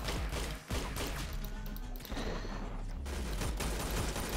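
Musket fire in the Roblox game Arsenal comes in a dense, loud barrage of overlapping shots and impacts, close up and continuous over a few seconds, with no speech.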